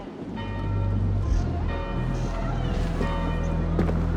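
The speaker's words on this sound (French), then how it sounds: "N'entends-tu pas les cloches?" Chapel bells ring out in the Assassin's Creed Valhalla video game, their sustained metallic tones layered over a rumbling low ambient bed, with a few sharp strikes.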